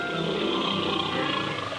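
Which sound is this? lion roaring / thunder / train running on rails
lion roaring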